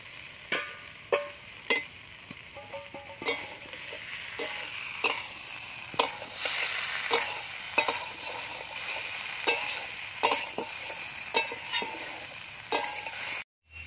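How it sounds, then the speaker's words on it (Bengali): Fried cauliflower and other vegetables get stirred into a sizzling spice masala in a pan, with a continuous close frying hiss broken by regular sharp scrapes and knocks of the spoon against the pan. "এবার আমি ভেজে রাখা সব সবজিগুলো একসাথে দিয়ে দেবো।"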